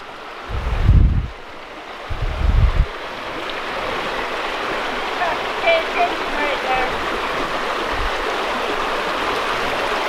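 A creek flows through a canyon it has hollowed out near Moab, Utah, giving a steady broadband rush of water throughout, with a few low thumps near the start.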